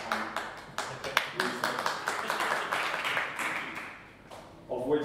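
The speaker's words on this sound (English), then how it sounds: "Save your applause" Audience at a Drupal conference talk clapping: scattered, uneven claps build into light applause that fades after about four seconds, and then a voice speaks.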